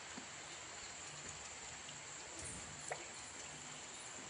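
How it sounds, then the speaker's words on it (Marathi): Light drizzling rain outdoors, a faint, soft, even patter with a few scattered drops and no talking. "पाऊस, पडतोय बारीक बारीक"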